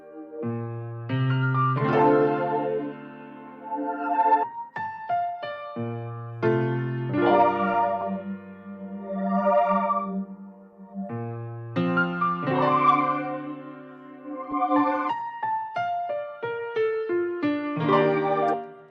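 A sustained synth pad holds soft chords beneath a piano melody, with notes and chords changing in phrases and no voices.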